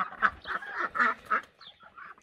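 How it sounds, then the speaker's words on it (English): Ducks quack in a coop shared with chickens, a nearby run of about half a dozen nasal quacks in an uneven rhythm with short gaps between them. "there's a duck in there sitting on eggs"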